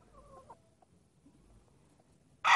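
A seven-month-old pullet at a gamecock farm gives a few faint, soft clucks in near quiet, then a sudden loud burst at the very end.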